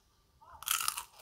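Crispy fried coffee-glazed chicken (sweet latte chicken from Mexicana) crunches loudly and close in a burst of crackling bites, after a brief quiet moment, with no talking.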